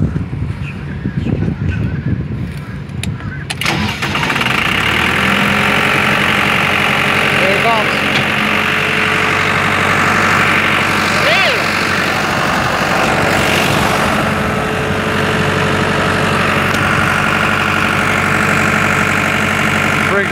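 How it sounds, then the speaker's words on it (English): A concrete pump truck's diesel engine idles and runs steadily at a ballpark, a loud continuous drone with a rough vibrating hum; some indistinct voices and clatter mark the first few seconds before the engine noise settles in alone. "This is how they run a concrete pump"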